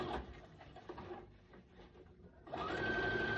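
A sewing machine set to a basting stitch tacks arms onto a stuffed toy, with quick close mechanical stitching chatter that slows and pauses before the motor whirs up loudly again.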